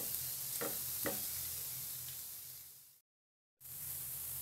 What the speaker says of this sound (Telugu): ఈ విధంగా బ్రౌన్ కలర్ వచ్చేంత వరకు ఉల్లిపాయలను వేయించుకోవాలి